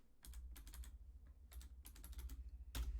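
Bursts of clicking keystrokes on a computer keyboard, fast and close, with short pauses between runs and a louder clatter near the end; no voices.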